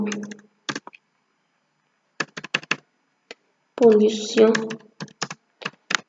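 Computer keyboard keys tapped in short quick bursts while typing text into a PowerPoint slide, with pauses between runs and a brief stretch of talking in the middle.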